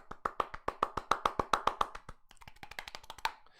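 A single pair of hands claps in a quick, fairly even rhythm, about twenty crisp claps close by, slightly faster and looser toward the end.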